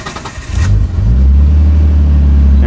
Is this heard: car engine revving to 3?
yes